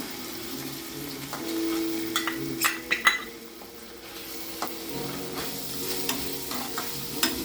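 Spices frying in a pan with ginger garlic paste give a steady close sizzle, broken by scraping stirs and a few sharp clinks of a spoon against the pan.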